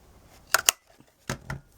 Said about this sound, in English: I'm going to take my 1-inch circle punch, and I'm just going to line it up in the center and cut like a half moon shape